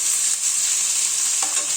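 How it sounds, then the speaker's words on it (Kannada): Finely chopped onion fries in a pan after garlic, giving a loud, close, continuous sizzle with a brief stirring scrape near the end. "ಸಣ್ಣದಾಗಿ ಹಚ್ಕೊಂಡಂಥ ಆನಿಯನ್ನ ಸ್ವಲ್ಪ ಫ್ರೈ ಮಾಡ್ಕೋಬೇಕು"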